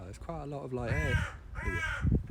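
A crow gives a series of loud, harsh caws close by, with several calls in quick succession, while a person talks quietly underneath.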